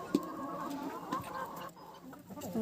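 Young hens and a rooster cluck softly in a snowy village farmyard, a few scattered calls close by over low background noise, with no one speaking.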